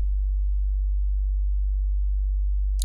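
Low synthesizer sub bass tone built from two oscillators, a steady deep hum sustained alone throughout with a brief higher blip at the very end.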